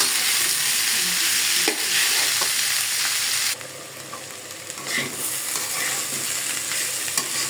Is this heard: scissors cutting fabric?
no